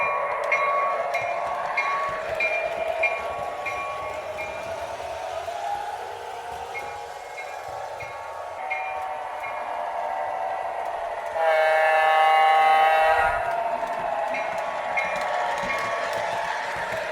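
A model train rumbles steadily along its track, with tonal whistle-like hums and a brighter, louder burst partway through.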